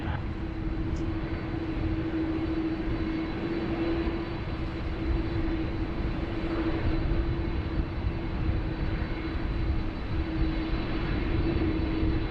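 Fiji Airways jet on final approach through cloud to runway 16 right at Sydney Airport, a steady distant engine drone with a constant hum, even and unbroken throughout.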